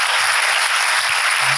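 Audience applause at a graduation ceremony for an incubator's fifth cohort, a dense, steady wash of many hands clapping loudly throughout, with no talk over it.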